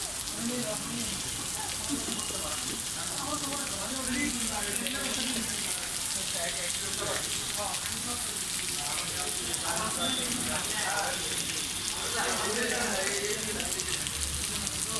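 Heavy rain pours down in a dense, constant hiss, with a faint voice now and then beneath it.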